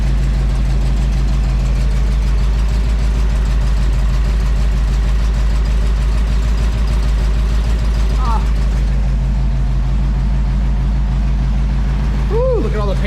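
A Toyota FJ40 engine running at idle with the paint burning off its headers and a possible fuel pump fault, a loud steady low rumble throughout with brief voices near the end.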